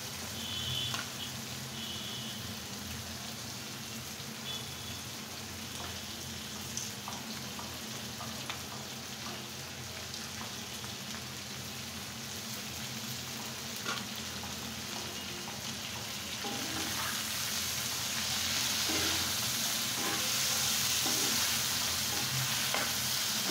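Bitter gourd slices fry in oil in a pan, giving a continuous crackling sizzle with occasional stirring clicks that grows slightly louder toward the end.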